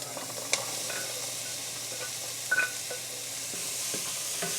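Sliced carrots sautéed in a pan, a soft steady sizzle with a few sharp clinks and scrapes of a spoon stirring, close and quiet with no talk.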